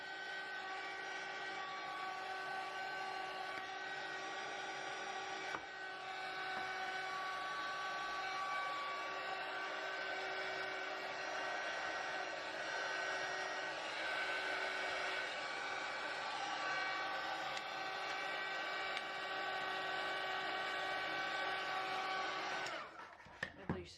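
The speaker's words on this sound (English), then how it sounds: "If you're using the heat gun, it might melt it." A heat gun blows hot air steadily and loudly near a plastic piece being loosened, a continuous whooshing roar with a fan whine that holds for more than twenty seconds and then cuts off abruptly.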